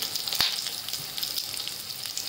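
Oil sizzling in a pan with green chillies, a soft, even hiss with one brief tap near the start, close by with no talking.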